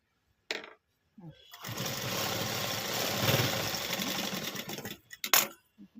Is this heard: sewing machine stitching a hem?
yes